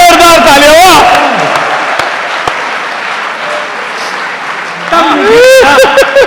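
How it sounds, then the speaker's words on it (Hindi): Loud audience applause at a comedy show, with laughter bursting out, framed by someone speaking at the start and again near the end. "एक और जोरदार तालियां"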